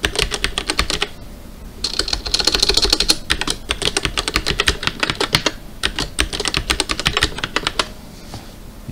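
A password is typed on a computer keyboard in quick, close bursts of clicking keystrokes with short pauses between them, and no one speaks.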